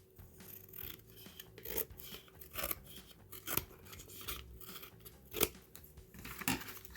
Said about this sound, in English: I'm going to cut this excess part off